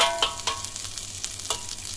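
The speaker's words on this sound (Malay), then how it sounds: "Kita tumis hingga naik minyak ataupun pecah minyak." Ground dried chili paste sautéing in hot oil in a pan, with a close, steady sizzle broken by sharp scraping strokes of stirring, no voices.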